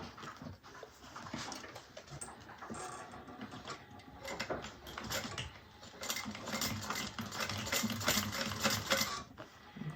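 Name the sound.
sewing machine back stitching a bag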